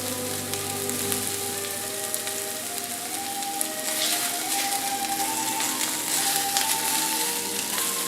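Meatballs browning in a frying pan give off a steady, close, busy sizzle with crackling pops, continuous throughout and without talk.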